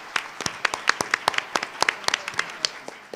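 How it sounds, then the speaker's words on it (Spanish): Sparse applause at an academic talk on service-learning research, a small audience clapping in distinct, uneven claps at close range, with no talk over it. "pido un aplauso muy grande"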